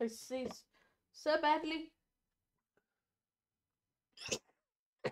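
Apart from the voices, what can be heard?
sneeze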